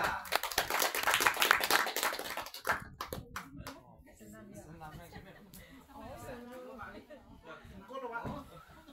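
Audience applause at a youth guidance gathering of the SB Flash New community in Mangunan, made up of dense clapping for a few seconds that fades into chatter and talk.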